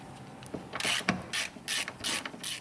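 Ratchet wrench with a 10 mm socket backing out bolts on a 2009-2011 Ford Flex headlight assembly, a close, loud run of rapid pawl clicking in five or six quick bursts separated by short pauses.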